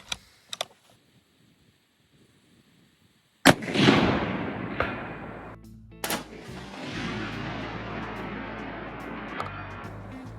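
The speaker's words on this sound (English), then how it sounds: "I'm gonna shoot another shot because that hit about an inch away from where I was aiming" A single loud, sharp rifle shot fired at a man-shaped silhouette target about 350 yards away, with a long decaying outdoor echo, followed by a second crack about three seconds later, after near silence with a couple of faint clicks.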